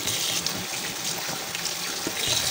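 Galunggong fish are rinsed under a running tap for a paksiw dish, a steady close gush of water splashing into a sink.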